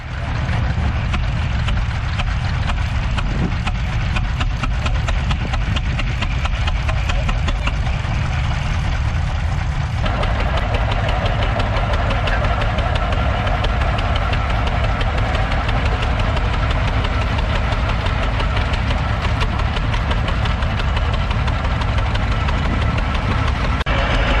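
A 1921 International Titan vintage tractor engine runs alone, close and loud, with a steady, dense, knocking chug that holds for the whole stretch at a rally for rare working tractors.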